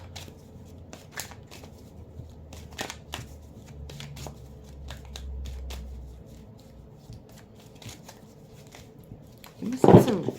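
Playing cards shuffled quietly indoors: a series of soft riffling flicks and taps with pauses between, ending in a louder, sharper riffle and bridge; no one speaks.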